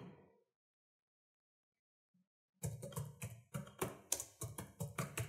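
Typing on a computer keyboard while entering footer text in LibreOffice Impress: after a trailing bit of voice and a silent pause, a rapid run of close, crisp key taps follows in an uneven rhythm.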